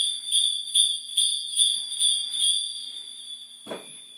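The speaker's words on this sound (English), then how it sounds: "So this is our number two size bell." Number two size heirloom brass bells on a strap jingle in a steady shaking rhythm, about two strikes a second, bright and close, then stop, followed by a single soft rustle.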